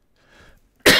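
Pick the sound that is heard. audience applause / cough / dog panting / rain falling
cough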